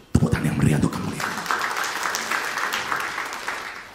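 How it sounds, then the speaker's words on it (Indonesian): Church congregation applause for a sermon, steady crowd clapping that rises after a brief spoken phrase and holds at moderate loudness, with voices at the start. "Tepuk tangan yang meriah untuk kemuliaan."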